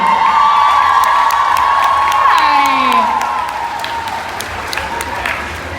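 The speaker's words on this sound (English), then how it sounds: "One more applause, ladies and gentlemen." Convention audience applauding and cheering for actor Daniel Gillies at GCC 2019, a loud, steady wash of clapping with whoops and a few shouts, easing slightly toward the end.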